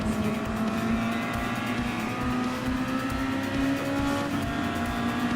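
Race car engine in Gran Turismo Sport, a Red Bull X2014 Junior on track, droning loud and steady throughout with a sustained high-revving tone and slight pitch shifts, no talk.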